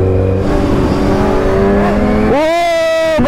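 A Yamaha R15 motorcycle engine revs on a snowy mountain trip, a loud, close drone that climbs in pitch, then snaps up sharply into a high sustained whine near the end, with engine noise throughout.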